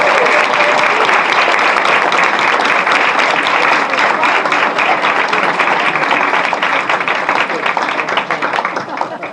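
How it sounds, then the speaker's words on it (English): Audience at a Plymouth-area Democrats tenth anniversary celebration gives a sustained round of applause, loud dense clapping throughout that begins to thin toward the end. "let's give them a great round of applause and thanks"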